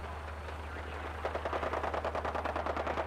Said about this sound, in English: Wow, it's a lot of shooting.